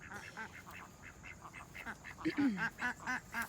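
A small backyard flock of domestic ducks, three females and one male, quacks in a steady run of close, fairly loud calls with no talk over them.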